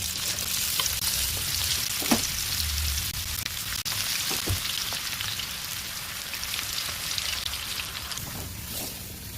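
Pakoda dropped into hot oil in a kadai fries with a steady, dense sizzle and crackle, broken by a few soft clinks and scrapes of a spoon, with no one speaking.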